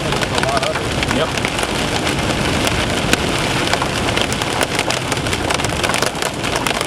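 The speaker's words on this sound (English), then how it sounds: "A lot of hail on the road. Small, but it's accumulating." Small hail accumulating on a road during a supercell thunderstorm, a dense, steady clatter of pellets on pavement and vehicle that runs continuously and loud throughout, broadband and hiss-like with scattered sharper ticks.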